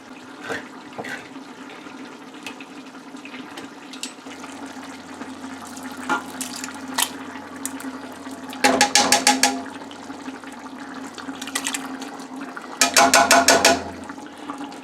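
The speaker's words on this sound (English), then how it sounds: "we're going to add 2 cans of Hunt's diced tomatoes with garlic" Canned Hunt's diced tomatoes with garlic go into a pot, making wet pours and splashes that surge in two louder bursts over a low steady kitchen hum, with scattered clinks and no talking.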